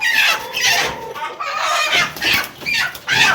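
An Aseel rooster in a farm pen clucks loudly and close in a series of short, agitated bursts, with brief pauses between the calls.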